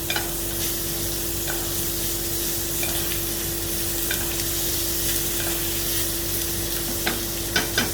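Sirloin steak sizzling hard in a hot pan with butter, a dense, loud, continuous crackle held close for eight seconds, a steady tone running beneath it and a few sharper spits and clinks toward the end.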